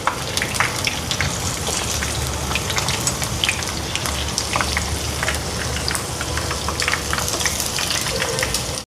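Butter sizzles and crackles steadily in a hot pan as small onions fry, a dense continuous spatter heard close up without any talk.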